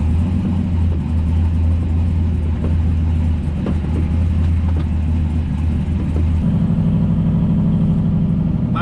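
A turbocharged truck engine runs loud and close with a heavy, steady drone and some uneven revving. Partway through, the pitch and load shift as the engine changes note and pulls harder.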